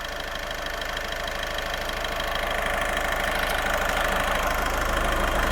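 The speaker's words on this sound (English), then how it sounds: "we are going to leave the engine running for this stage" A diesel engine idles steadily during a soak-and-rinse DPF cleaning job, a continuous close mechanical drone with a faint knocking texture and no pauses throughout.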